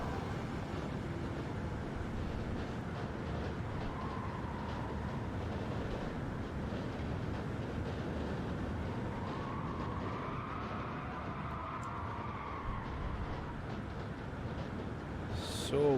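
Car engine in the racing game Gran Turismo 7, a low continuous rumbling drone heard from a distance, steady throughout with a faint rise in pitch midway.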